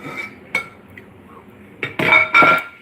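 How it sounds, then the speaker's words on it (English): Metallic clinks and a clatter of a lid settling onto a pot of water for pickled okra and jalapeños, a few sharp knocks followed by two louder rattling bangs, close by. "then I just put my lid on it"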